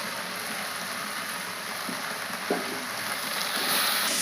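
Fried egg going into a cooked paste in a hot pan for an egg chutney curry: a soft, steady sizzle at low level, with a single small clunk partway through and a slightly louder finish.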